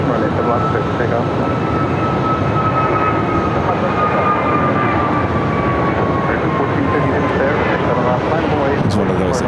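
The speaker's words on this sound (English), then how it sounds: "It's one of those Italian aircraft." An Italian aircraft taking off from runway 7 left at Phoenix airport gives a loud, steady engine roar with a faint thin whine drifting through it, holding evenly for about nine seconds.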